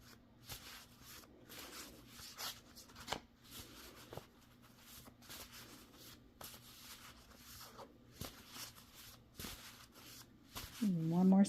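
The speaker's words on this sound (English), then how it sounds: "turn your volume down a little if the shuffling is a bit too much" Tarot cards are shuffled over and over, crisp riffling bursts with soft rustles in between, close and fairly quiet, with a voice rising at the end.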